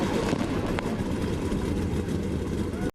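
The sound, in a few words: NASCAR race car engines starting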